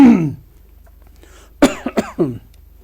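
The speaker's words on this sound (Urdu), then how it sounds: "میری کھانسی ٹھیک ہو جائے" A harsh cough at the start, then a pause and a short burst of three or four coughs and throat clearing, close and fairly loud.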